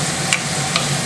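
Bacon sizzling in a pan while being stirred with a wooden spoon, a steady close crackle with a few light scraping strokes.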